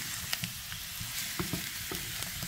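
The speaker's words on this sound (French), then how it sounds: "Et bien mélanger tout ça." Garlic being stirred through food frying in a pan, with a steady close sizzle broken by scraping stirring strokes throughout, no voices.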